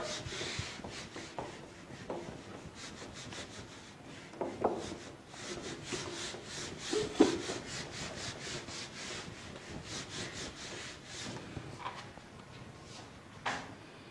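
Eraser or duster rubs out writing on a classroom board in a run of soft, rhythmic scrubbing strokes, faint and close, with a few louder scrapes.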